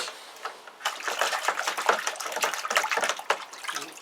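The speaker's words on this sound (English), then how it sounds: "In the bucket of water down here for a rinse." Metal part swished in a bucket of water to rinse it during home zinc plating, close-up sloshing and irregular splashing with quick rattling bursts and no talking.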